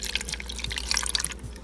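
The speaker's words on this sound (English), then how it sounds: "So I'm going to pour some water in it now." Water trickles and drips into a blender holding yuca, a brief close splashing pour.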